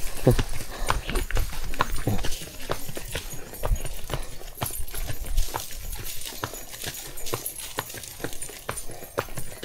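Horse hooves clip-clop on a cement path in Tayabas, Quezon, in a steady walking rhythm of close, sharp knocks, with faint background noise and no talk.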